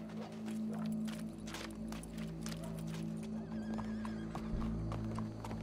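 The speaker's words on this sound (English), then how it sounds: "Go brush that horse" Horse in the video game Red Dead Redemption 2, a steady clip-clop of hooves with occasional neighs and whinnies, loud and continuous over a low game ambience.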